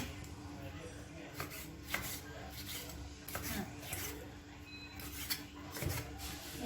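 Repeated knife cuts through squid on a board, soft irregular taps and rasps in a quiet kitchen, with some faint background noise.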